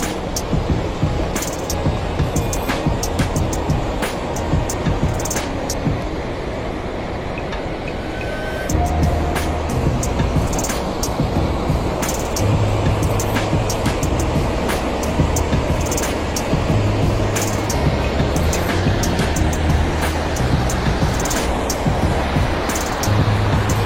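Roaring water at Hogenakkal waterfall fills the air as a steady, loud, unbroken rush, with faint occasional voices beneath it.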